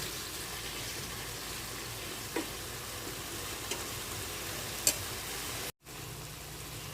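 Bele fish curry cooking village-style in a pan, spices frying with a steady soft sizzle and occasional stirring scrapes, ending in a brief cutoff.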